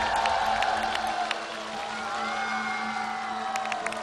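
A studio audience at a televised singing competition applauds and cheers in a steady, dense roar that lasts the whole stretch, with no one speaking over it.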